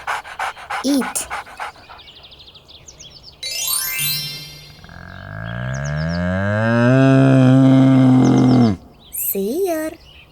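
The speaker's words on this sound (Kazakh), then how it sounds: "сиыр" A cow gives a long, loud, drawn-out moo that swells and holds for several seconds, after earlier short animal panting and calls. It ends with a brief rising call.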